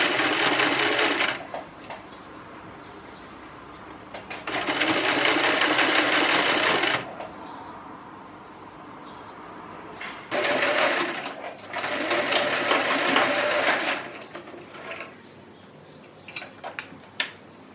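A sewing machine stitches the hem of a skirt made from curtain fabric, running in three loud, steady bursts of a few seconds each with quieter pauses between them.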